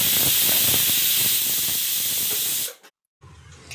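A pressure cooker whistle blasts loud, steady steam hiss for nearly three seconds, then cuts off abruptly into brief silence before a quieter background returns.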